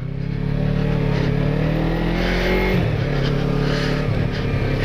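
A Yamaha MT-03 motorcycle engine revs loudly and close by, its pitch climbing and falling across a few throttle blips in one continuous, rumbling run with no talk.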